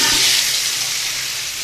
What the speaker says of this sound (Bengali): কড়াইয়ে জিরে ফোড়ন দিয়েছি, তার ভিতরে এখন এটা দিয়ে দেবো